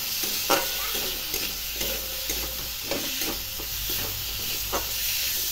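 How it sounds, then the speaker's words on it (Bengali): Green tomatoes fry in a little oil for a small puti fish curry, a constant sizzle broken by repeated scraping stirs of a spoon against the pan, close and fairly loud. "কাঁচা টমেটো দিয়ে ভালো করে ইয়ে করতে হবে, নাড়তে হবে"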